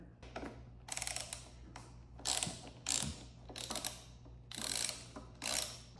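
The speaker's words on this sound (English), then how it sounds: "First thing I'm gonna do is remove the 10 millimeter locking nut on the bottom over" Ratchet loosening a 10 mm locking nut on a motorcycle clutch lever, with repeated short bursts of fast clicking pawl strokes in an even rhythm, close up and quiet.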